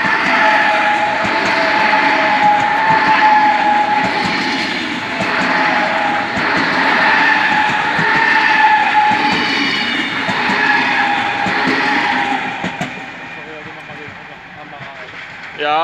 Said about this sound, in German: Es kommt noch ein Zug und dann gehen wir.